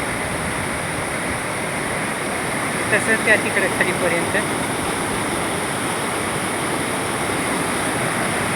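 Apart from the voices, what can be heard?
fast-flowing river water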